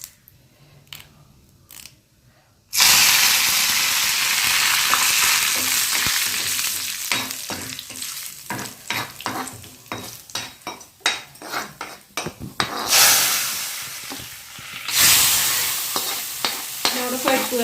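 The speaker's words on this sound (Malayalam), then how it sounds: "മുളകിനൊന്ന് നന്നായി മൂത്തോട്ടെ വറ്റൽമുളക്" Dried red chillies hit hot oil in a pan for a dal curry, bursting into loud, continuous sizzling with repeated spoon scrapes and clinks against the metal as it's stirred.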